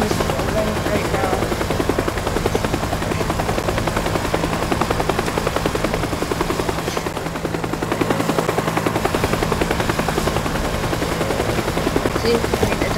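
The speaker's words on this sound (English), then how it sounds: "helicopter, really hard to push away" A helicopter in the destruction game Teardown gives off a loud, continuous rotor thrum that pulses steadily throughout. A voice talks faintly in the background.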